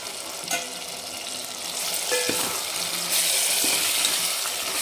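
Drumstick pods and softened tomatoes are stirred in a frying pan, giving a steady sizzle with a few scraping clicks of a spoon. The frying grows a little louder toward the end.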